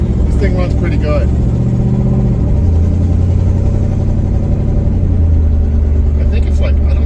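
A 1960 Pontiac Bonneville engine runs steadily while the car drives, a low continuous drone with a shift in pitch partway through and some faint voices and cabin noise over the top.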